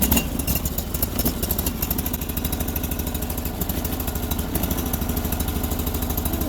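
A tractor engine on a morning cold start with the choke on and the gearbox in neutral, chugging at a fast, steady rhythm, loud and close, with no voices over it.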